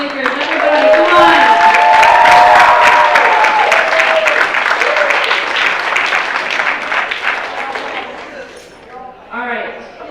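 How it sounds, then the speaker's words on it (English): An audience at a short film festival at a public library applauds the filmmakers, a loud, steady round of clapping mixed with cheers and voices that gradually fades, followed by a short burst of talk. "another round of applause for filmmakers"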